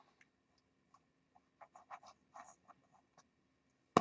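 Someone sketches the outline of a portrait before painting it in acrylic. Quiet, close scratchy strokes come in short irregular bursts with pauses between them, ending in a sudden sharper knock.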